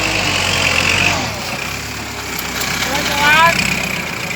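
A Kubota L5018 tractor engine idles nearby with a low chugging rumble, steady throughout, while someone talks over it.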